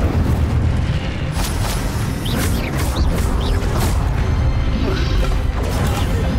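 Fire spell blast in the Hogwarts Legacy video game, a loud rumbling burst of roaring, crackling energy with rushing whooshes and impact noise sustained throughout, with no talking.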